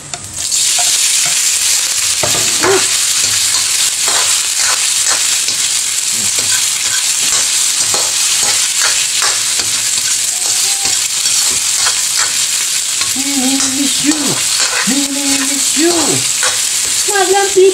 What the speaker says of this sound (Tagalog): Magsasalang naman tayo yung slight na prito lang.